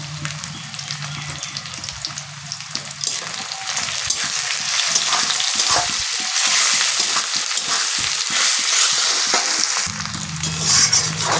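Okra curry sizzling loudly in a pan after red chili goes in, a steady close hiss of frying with stirring scrapes and bubbling, no voices.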